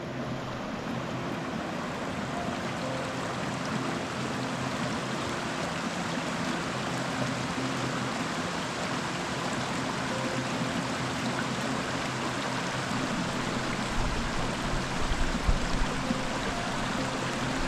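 A mountain creek at a trail crossing in the Sawtooth Wilderness rushes steadily and close by, a broad continuous wash of flowing water with no voices over it.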